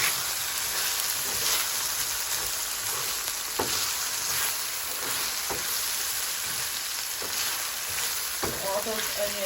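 Keto cheeseburger patties fry with onions in a pan, a loud, continuous sizzle and crackle filling the scene, broken by occasional spatula scrapes and knocks as the meat is checked and moved.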